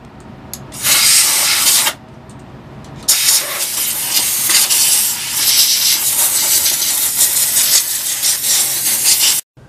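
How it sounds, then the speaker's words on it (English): A Harbor Freight steam cleaner blasts steam into the nooks of a motorcycle wheel, a loud steady hiss that cuts out briefly then resumes and runs continuously before stopping abruptly. "Now my Harbor Freight steam cleaner, one of the tools I've used so many times, super handy"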